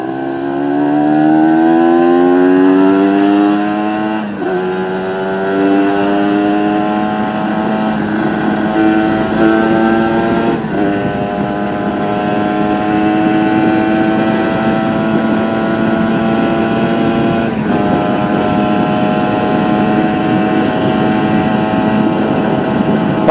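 A Ninja RR motorcycle engine with a new carburetor needle drones continuously for a long stretch, its pitch rising and falling in repeated revs with abrupt breaks between gear changes.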